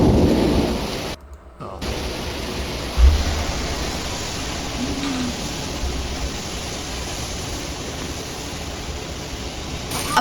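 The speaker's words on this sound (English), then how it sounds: "A powerful thunderstorm blasted through Edmonton Friday evening" A powerful thunderstorm over Edmonton pours down in a dense, loud roar of rain, broken by a deep rumble of thunder early on, and the downpour continues steadily afterward.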